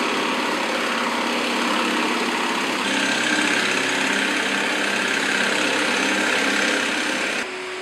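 A Forstner bit boring holes into wood for a Gothic bench, a steady, loud grinding drone that runs unbroken for several seconds and then stops abruptly, with no talking.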